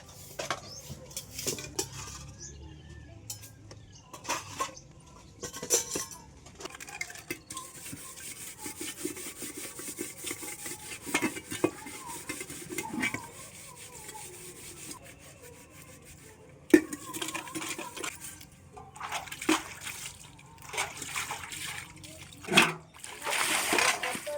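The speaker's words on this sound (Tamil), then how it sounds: "மகேஷ் பாத்திரமெல்லாம் கழுவி கவுத்துட்டு" Pots, pans and dishes being washed during morning housework at home: repeated clattering of metal vessels, scraping, scrubbing and light water splashes, close and fairly steady throughout, with a voice heard briefly at times.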